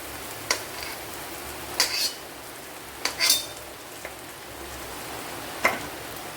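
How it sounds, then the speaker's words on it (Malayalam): A few sharp metallic clinks of a spoon against a pan while drumstick leaves go into sautéed onion and tomato, irregular taps over a soft steady background hiss. "ഇനി ഇതിലേക്ക് നമ്മുടെ മുരിങ്ങയില ഇട്ട് കൊടുക്കാം"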